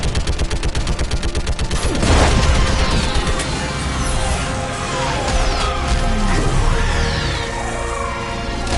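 Rapid gunfire rattles in Mass Effect 3, then an orbital strike slams down in a loud crash, followed by sustained roaring, sweeping blasts and continued shooting, all close and dense without speech.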